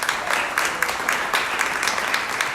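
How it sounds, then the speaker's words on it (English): Steady audience applause at a county candidate forum run by a local Democratic Party, with a moderate room of hands clapping continuously and evenly throughout and no talk over it. "Let's give them another round of applause."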